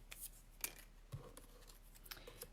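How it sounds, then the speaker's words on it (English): Scissors snip through paper during a card-making project, several short crisp cuts scattered across a quiet moment, close and faint. "just going to snip that."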